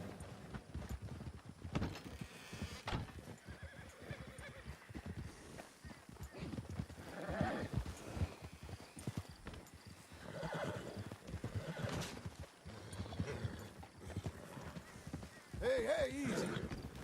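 Scared wild horses shuffle and clip-clop around in an enclosure, with several sharp whinnies and bursts of hoof movement, while a person talks over them.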